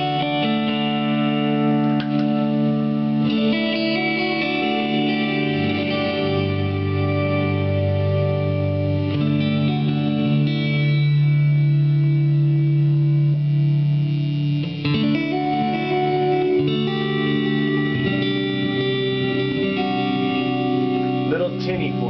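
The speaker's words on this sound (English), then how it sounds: "I'm not particularly fond of this pedal as an adder of reverb" An electric guitar plays through a Boss RV3 reverb pedal, sustained chords and notes washing into a loud, continuous reverberant tail throughout.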